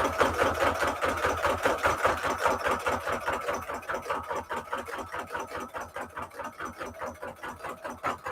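Home sewing machine back-stitching through a thick stack of junk journal paper signatures, a fast, even rhythmic clatter that runs continuously and close up, gradually easing slightly in loudness; no talking.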